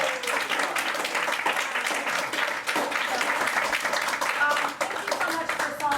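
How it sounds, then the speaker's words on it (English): An audience applauds at a talk with Peter Beinart, a steady round of clapping from many hands that carries on throughout, moderately loud and fairly close. "round of applause"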